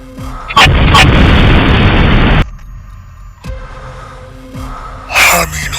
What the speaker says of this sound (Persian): چرا صدای رعد و برق میاد؟